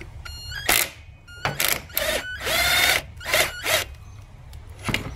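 A hand ratchet loosens 10mm bolts on a Lexus IS250 engine during injector and valve cover work, giving several short bursts of rapid clicking separated by brief pauses, close and clear.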